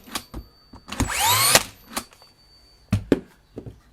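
A Bosch 16-gauge brad nailer whirs up with a rising motor whine, then fires with sharp snapping clacks; several softer mechanical clicks come before and after.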